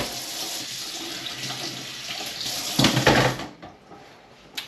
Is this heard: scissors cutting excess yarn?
no